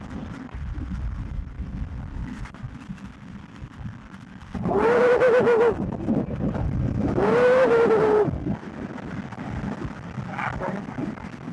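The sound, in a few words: cars passing on the highway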